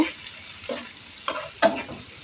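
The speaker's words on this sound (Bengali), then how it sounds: "পেঁয়াজটা ব্রাউন কালার করে নিব, নাড়াচাড়া করে ভেজে।" Chopped onions and green chilies fry in hot oil with a soft, steady sizzle, broken by a few distinct scrapes and clinks of a spoon stirring the pan at close range.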